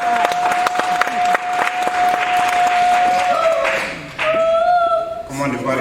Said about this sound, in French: Oui, ça peut s'applaudir.